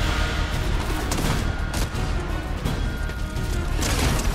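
Continuous Fortnite gunfire, a loud dense barrage of rapid shots and impacts sustained the whole time without a break.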